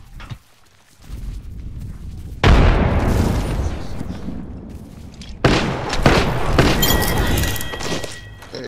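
A frag grenade goes off in Apex Legends as a loud blast with a crackling, debris-filled tail, followed by a second burst of noisy game action and crashing.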